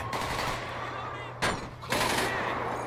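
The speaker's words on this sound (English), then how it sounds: "Hey, stop shooting." Gunfire in the GTA 5 video game, several sharp broadband bursts cutting through a steady game soundtrack and background noise, with a loud shot near the middle and another sustained burst toward the end.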